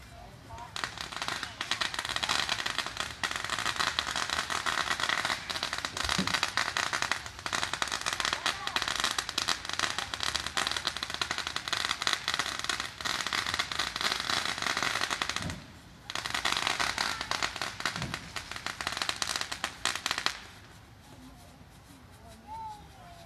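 Continuous bursts of fireworks and firecrackers at a Fourth of July celebration in Corvallis, loud and dense crackling with sharp pops running almost nonstop, then a brief pause and a quieter stretch near the end.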